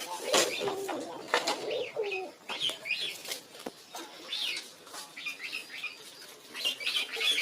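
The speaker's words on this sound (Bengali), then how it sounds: "সেই জন্য দেখাচ্ছি আজকে আমাদের পায়রাগুলো" Giribaz pigeons and their chicks coo softly at close range while wings flap in repeated quick bursts, with faint background sounds between calls.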